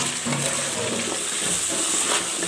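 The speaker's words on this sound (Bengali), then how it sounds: "আলুগুলো এখন কষিয়ে নেব।" Potatoes frying and being stirred in a pan for a pangas fish curry with tomato, a steady close sizzle and hiss with soft scraping throughout.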